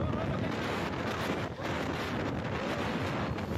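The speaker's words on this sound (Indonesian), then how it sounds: "inilah detik-detik ketika angin kencang merobohkan panggung pagelaran UMKM" Strong wind sweeps across the festival stage at Manakara Beach in Mamuju, West Sulawesi, roaring against the microphone as a continuous dense rumble with faint surf beneath, and no distinct crash stands out.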